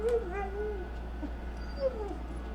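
A dog whimpers softly in a few high, wavering whines, faint against a low steady hum.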